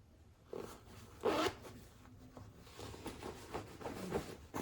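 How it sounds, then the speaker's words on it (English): A YKK zipper on the waist pocket of combat pants is worked up close, giving quick scratchy zipping runs with one louder pull, among soft fabric rustle. "All the zippers are YKK."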